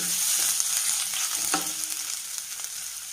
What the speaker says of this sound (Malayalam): ഇതിലേക്ക് നമ്മൾ ഇട്ട് കൊടുക്കാൻ പോകുന്നത് നമ്മൾ എടുത്ത് വെച്ചിരിക്കുന്ന ഇഞ്ചി